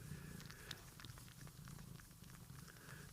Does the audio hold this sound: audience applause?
no